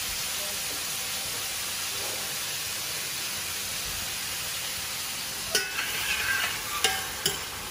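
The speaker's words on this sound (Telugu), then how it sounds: "ఫస్ట్ రొయ్యల్ని నేను ఫ్రై చేసుకుంటాను విడిగా" Prawns frying in a pan with turmeric and salt, a steady broadband hiss of oil throughout, with a few sharper pops and stirring scrapes near the end; no voices.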